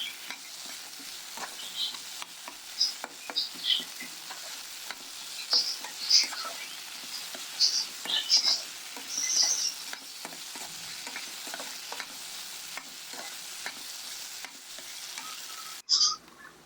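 Green beans and other vegetables sauté over a high gas flame for Indian-style macaroni, a continuous crackling sizzle broken by frequent stirring scrapes and clicks, ending with a louder clatter.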